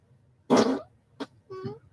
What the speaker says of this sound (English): Fart on turn signal, fart on demand.